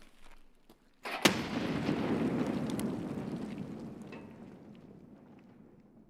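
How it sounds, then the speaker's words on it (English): A grenade goes off in Escape From Tarkov, a sharp loud blast with a long rumbling tail that slowly fades over several seconds, with no talk over it. "The grenade probably got him."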